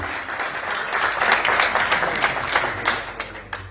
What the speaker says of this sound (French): je demande un tonnerre d'applaudissements pour la djellaba ouazzania